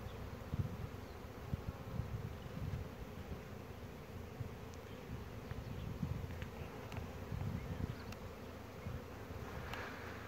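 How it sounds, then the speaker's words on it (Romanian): Honey bees buzz around a blooming cherry plum tree in an apiary, a soft, continuous swarm drone with occasional closer passes and no talking. "Este vizitat de albine."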